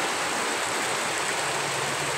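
Steady, heavy rain after a typhoon pours down as a continuous dense hiss, loud and unbroken from start to end, with no voices.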